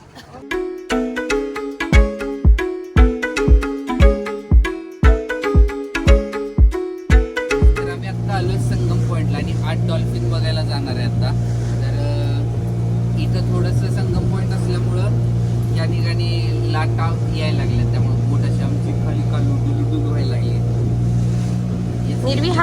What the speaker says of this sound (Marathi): आपण आता बोट मध्ये बसलोय आणि निघालोय डॉल्फिन बघायला